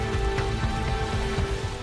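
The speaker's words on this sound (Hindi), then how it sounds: "तूफानी बारिश ने पूरे शहर को जैसे झिंझोड़ कर रख दिया हो।" Dense storm rain from Cyclone Biparjoy pours down steadily, a constant hiss and patter close by with no pauses.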